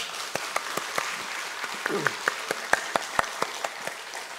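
Church congregation at an early-morning Holy Week prayer service applauds, a moderate patter of clapping with distinct individual claps punctuating the wash, and a voice briefly heard beneath.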